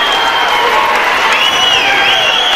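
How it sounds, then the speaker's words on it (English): A crowd on its feet at a fight match, cheering and applauding loudly in a dense, continuous roar with whistles rising above it. "The crowd are on their feet here."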